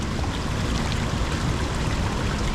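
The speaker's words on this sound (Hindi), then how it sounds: "पहाड़ से निकलता हुआ पानी" Mountain spring water near Rishikesh spilling out of a hillside, a steady, close rush of flowing water with no pauses.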